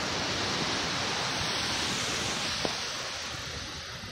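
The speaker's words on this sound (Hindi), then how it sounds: "आपको शायद आवाज़ भी आ रही होगी यहाँ के पानी की, और अरब सागर लगता है यहाँ पे" Steady broadband wash of sea waves along the Arabian Sea coast in Gujarat, a continuous surf roar filling the scene with no voices, constant level and one small click partway through.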